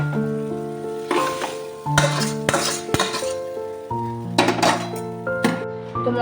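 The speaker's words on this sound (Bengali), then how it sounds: "নাড়াচাড়া করে নিচ্ছি" Roasted spices for paneer butter masala are stirred in a pan: scraping, clinking strokes come in bursts under a steady layer of background music, with no talk.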